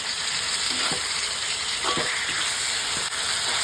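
Chicken is tossed into a pan of wilted onions for a roast-style dish, and a continuous loud sizzle fills the space with a few scraping stirs of a utensil, close up and without talk.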